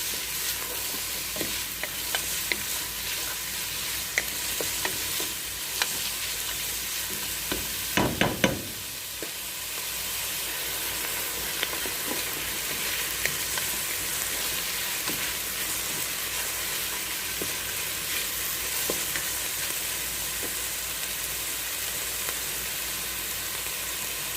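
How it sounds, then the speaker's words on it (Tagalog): Garlic and onion sauté in a pan with a steady sizzle while a spoon scrapes and stirs in occasional clicks, plus a brief louder clatter partway through; no one speaks. "Hintayin natin na maluto yung bawang at saka yung sibuyas"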